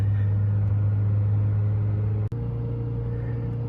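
A Ford Focus engine with an electronic throttle body, held at a steady RPM during throttle cleaning, gives a continuous low hum and rumble. The drone is broken only by a brief click and dropout near the end.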